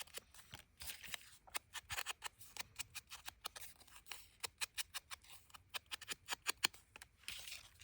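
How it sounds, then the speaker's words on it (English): Large scissors snip through paper tags in a quick, irregular run of crisp close-up cuts, quiet and alone with no talking. "I'm not good at cutting straight. So the bigger the scissors, the easier it is for me."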